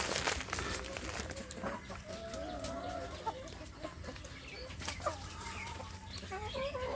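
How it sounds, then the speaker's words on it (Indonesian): Free-range Indonesian village chickens (ayam kampung) cluck and chatter continuously close by outdoors, with several overlapping calls and occasional wing flaps. "ini adalah untuk kelompok ayam kampung saya yang di umbaran di kelompok yang lain"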